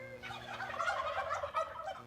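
Turkeys gobbling in a steady, rattling chorus of overlapping calls, close and continuous throughout, with no talking.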